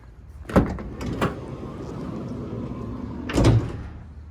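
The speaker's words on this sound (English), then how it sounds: "Got a sliding door on this one." Sliding side door of a 2018 Ford Transit 250 van, heard as a sharp clunk as it opens, another shorter thud, then a heavy slam as it rolls shut a few seconds later, close by with no talk.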